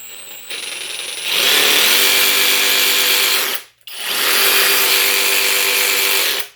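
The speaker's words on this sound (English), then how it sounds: "Here's the variable speed trigger." A SKIL 12V cordless reciprocating saw runs freely with a loud, close motor whine that ramps up on the variable speed trigger. It drops out briefly, then revs again at full speed.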